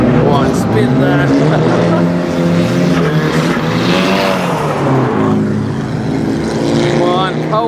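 Toyota Altezza cars drifting at a Mondello Park trackday in 2018, their engines revving and wailing in rising and falling sweeps, loud and continuous, with people talking nearby.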